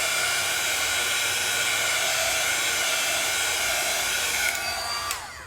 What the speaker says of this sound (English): I'm going to take my heat tool,